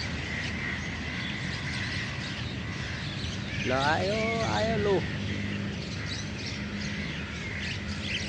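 A flock of birds calls at dusk, faint chirping over a steady background, with a louder, harsh cawing burst partway through as a voice talks nearby.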